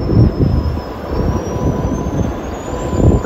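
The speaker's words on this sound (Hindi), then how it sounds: "जो फैन है बहुत तेज़ी से घूम रहे हैं" Loud, steady whooshing roar with a low rumble and a faint high whine of large wind turbine blades spinning fast nearby at a windmill site in Nashik.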